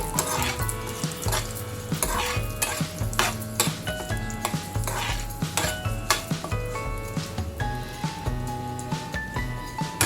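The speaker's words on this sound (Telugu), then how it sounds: "జీలకర్ర కారానికి సరిపడినన్ని ఎండుమిర్చి వేసుకున్నాను ఇవి ఒకసారి వేగనివ్వాలి పోపు అనేది" Cumin, urad dal and dried red chillies sizzling in hot oil as a tempering for a coriander tomato chutney, a continuous frying hiss with stirring clinks, partly masked by a louder tonal background bed.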